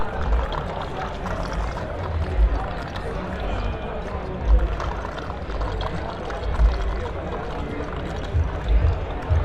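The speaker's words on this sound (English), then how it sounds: "I got one more example here, which is just some rocks" Dry recording of rocks clattering and knocking together, a busy, dense stream of tiny overlapping transient clicks and rattles with low thumps, steady and close throughout.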